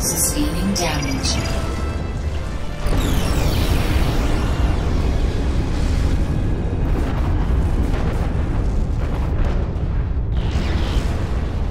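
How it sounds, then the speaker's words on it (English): Explosions from the video game Planetary Annihilation: Titans rumble in a loud, sustained barrage of deep booms and crackling bursts, with a voice speaking over the battle noise. "Explosion imminent."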